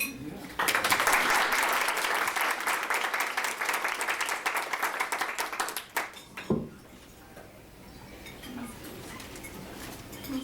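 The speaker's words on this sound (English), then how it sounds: "So, can we give everybody a round of applause?" Wedding guests break into a loud round of applause that starts abruptly and runs for about five seconds before fading into scattered claps, a few clinks and quiet room chatter.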